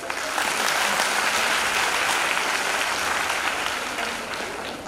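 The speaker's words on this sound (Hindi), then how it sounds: "खुद के लिए एक ताली बजाइए" Audience applause for a group of girls at a career guidance session, a steady dense patter of many hands filling the room and tapering slightly toward the end.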